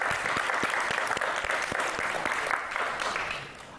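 An audience in a hall claps for the director general of the RTG, Guinea's broadcaster, at a public forum: a short, full burst of applause with a few sharp individual claps standing out, tapering slightly.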